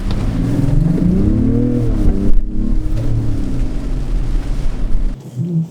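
A Mazda CX-60 Takumi with a 3.3L inline-6 turbo diesel mild-hybrid engine and all-wheel drive accelerates at full throttle in first gear, giving a loud, steady engine drone that rises in pitch before dropping off abruptly near the end.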